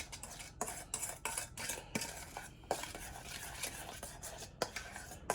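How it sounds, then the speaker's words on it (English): Sugar is stirred into a mixture in a pot for meatloaf with a metal utensil, a quick run of close scraping and clinking strokes against the pot's sides, repeated at an uneven rhythm. "So I'm gonna try to keep stirring it so I don't feel like that sugar"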